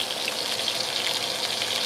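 Steak frying in hot oil, a steady loud hiss and crackle of sizzling fat filling the whole short stretch with no voices.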